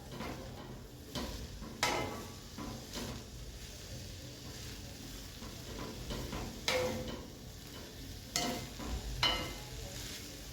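Beetroot and mixed vegetables being stirred in a pan over a low flame, with a soft sizzle beneath intermittent scraping strokes of a spoon that come in irregular bursts, fairly close.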